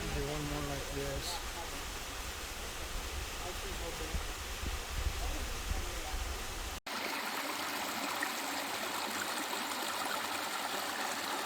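Steady broadband rush of stream water at Darwin Falls, a desert oasis in Death Valley, continuous and fairly close for the whole stretch; a brief dropout partway through, then the flow continues, with faint low voices in the first part.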